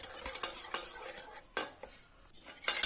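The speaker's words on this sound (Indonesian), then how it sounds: "tambahkan sedikit demi sedikit airnya sambil kita aduk" Seasoned flour batter for crispy mushrooms is stirred in a bowl as water is added bit by bit, giving scattered scraping and clinking taps of a utensil against the bowl with short quiet gaps between strokes.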